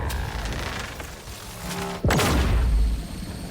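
A boss's charge shot in the video game Grounded, a rising whine followed by a sudden loud blast that sustains as a heavy roar over constant game noise.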